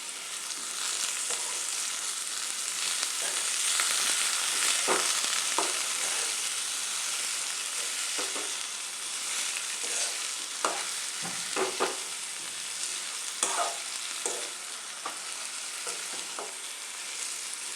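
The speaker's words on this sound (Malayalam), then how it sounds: "ഇനി ഇതിനകത്തോട്ട് നമ്മൾ കഴുകി അരിഞ്ഞു വെച്ചിരിക്കുന്ന നമ്മുടെ കത്തിരിക്കയിട്ട് ഇളക്കാം." Chopped brinjal sizzles steadily in hot oil in a pan while a spoon stirs it, with scattered scraping clicks over a constant loud frying hiss and no speech.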